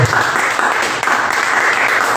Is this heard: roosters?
no